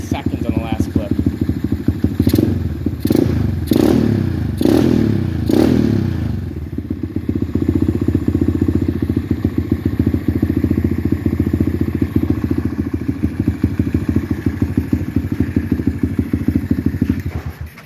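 A pit bike engine runs right after a kick start, a loud, close, steady motorcycle idle with a fast pulsing rumble and several clattering knocks early on.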